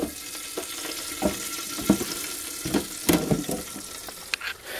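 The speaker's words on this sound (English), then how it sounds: "What we're going to do is just going to plop them into a boiling, this is very hot, just put them into your frying pan." Chicken pieces fry in very hot oil in a frying pan for a homemade KFC-style dish, giving a steady sizzle broken by several sharp spits and pops, close by with no talking.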